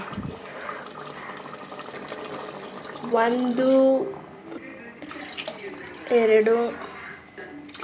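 Water poured from a glass into a pot of chicken biryani, a soft splashing trickle in short bursts beneath a voice counting aloud.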